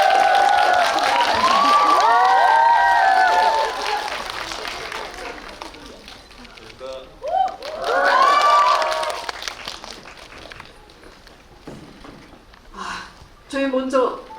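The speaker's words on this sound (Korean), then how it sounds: "큰 박수 부탁드릴게요." A theater audience at a guest-visit screening Q&A for the film Gunche claps loudly with high-pitched cheers and shrieks. It fades into quieter murmuring and brief voices, then flares again with short bursts of cheering near the end.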